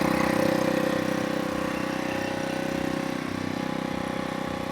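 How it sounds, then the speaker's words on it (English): A repaired portable generator's small engine idles steadily and loudly for the whole stretch, an even mechanical drone with no talk over it. "you've got that generator running"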